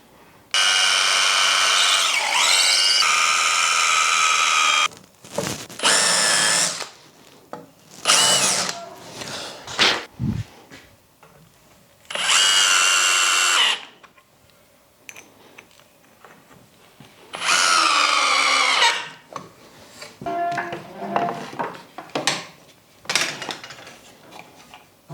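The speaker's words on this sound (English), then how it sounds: "So I'm just going to put a couple of screws through from here." Screws are driven through a wooden jig fence stop with a power drill. The motor whines in short, loud bursts of a second or two, separated by quiet pauses and light clatter, with no talking.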